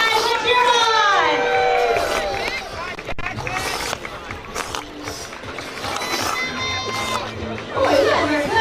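Excited crowd cheering and shouting at a ballpark as players race to knock over cups with balloons in a timed game, lively mixed voices and squeals rising and falling, with an announcer talking over it.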